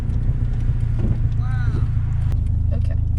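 A manual-transmission car rolling in gear with a steady low engine drone and road rumble inside the cabin, while a voice speaks briefly over it.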